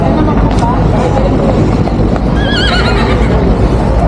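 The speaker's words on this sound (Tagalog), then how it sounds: "Daming kabayo guys." Horses on a foggy pine-lined road in Irisan, Baguio City, with steady hoof clip-clop and a whinny rising over constant loud traffic and engine rumble, voices nearby.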